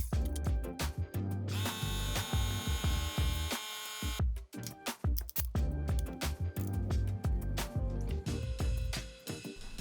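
A brad nailer fastening 1-inch wood pieces to the side of a cabinet, with rapid close mechanical bursts and whirring tool noise, a short pause near the middle, then more repeated hits.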